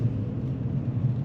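Engine hum inside a car during a gear change on a driving lesson, a short, steady low drone with slight fluctuation and no talk.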